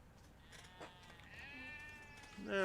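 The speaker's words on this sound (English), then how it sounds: "There's the sheep." A sheep bleats in a farming video game, a long wavering call followed by a louder bleat at the end, set against quiet background ambience.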